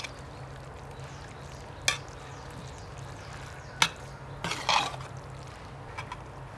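Karela gosht, bitter gourd and meat, stirred in a pan: a low, quiet simmer broken by a few sharp spoon clanks and a short burst of scraping.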